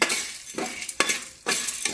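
Popcorn kernels with salt are stirred in a pan, making a few quick dry scraping strokes that rasp and rattle across the metal in short, separate bursts.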